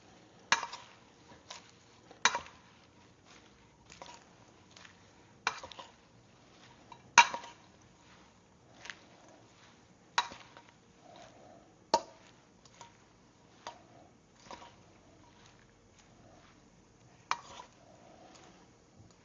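Food being mixed in a bowl in a kitchen, a steady series of soft knocks and scraping clinks of a utensil against the bowl, quiet and close, recurring every second or so.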